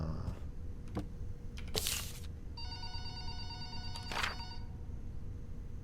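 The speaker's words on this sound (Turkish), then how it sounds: "Telefon çalıyor." A telephone rings inside the horror game Waffle Cone Willie, with bursts of electronic ringing, one around the middle and another near the end, over a steady game background hum.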